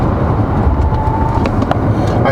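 A Volvo V60 Cross Country T5 in Dynamic mode on a winding road gives a steady, close interior rumble of engine and road noise with a faint tonal whine, holding low gears under continuous load.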